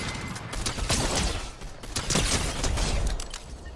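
Rapid gunfire bursts and mechanical clatter from a video game firefight, dense and loud, with no talking.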